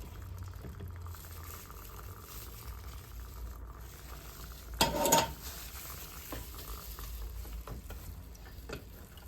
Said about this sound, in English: Be sure to stir it nice and good and gently